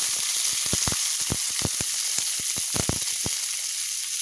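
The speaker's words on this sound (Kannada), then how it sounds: "ಎಲ್ಲನೂ ಹಾಕ್ಕೊಂಡು ಒಟ್ಟಿಗೆ ಫ್ರೈ ಮಾಡ್ತಾಯಿದ್ದೀನಿ" Green chillies, onions and curry leaves frying together in hot oil, a dense continuous sizzle close up with a quick run of sharp crackling pops that stops near the end.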